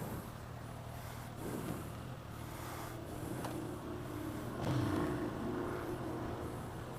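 A 2016 Suzuki GSX-S1000 motorcycle on the move, its engine a steady broad drone with wind rush, swelling briefly as it pulls harder, no voices over it.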